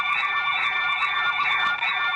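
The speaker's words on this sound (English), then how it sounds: "the system automatically blocks the call function and keeps the alarm sound on until a nurse attends the patient and press the presence switch" A Commax nurse call system sounds its alarm: a steady, loud electronic tone with layered pitches that holds continuously throughout, alone with no talking.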